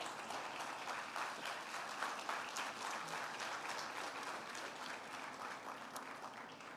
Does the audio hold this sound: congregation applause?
yes